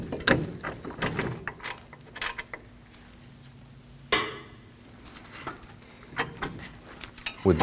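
A ratchet with a 21 millimeter socket undoes a caliper bracket bolt on a 2009-2014 Ford F-150, giving bursts of close clicking and metallic clatter separated by quiet pauses, with one sharp clank midway.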